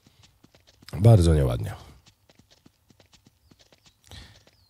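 Horse hooves clop in a steady, even walking rhythm in Ranch Simulator, crisp and close, with someone speaking briefly near the start.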